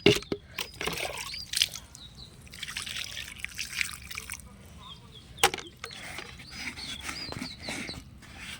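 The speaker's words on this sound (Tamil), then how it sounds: "தண்ணி ஊற்றி விட்டுறலாம்" Water trickling and dribbling onto freshly covered soil around newly planted brinjal, lady's finger and turmeric, soft intermittent splashes and drips close by, fairly quiet with no talk.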